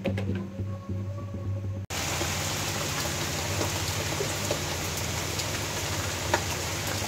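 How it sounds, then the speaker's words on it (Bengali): Heavy rain pours outside under a dark sky. After a brief quieter moment it breaks into a steady, dense hiss of falling water with scattered drop impacts, continuing evenly and without voices. "আকাশ অন্ধকার করে অনেক বৃষ্টি শুরু হয়েছে।"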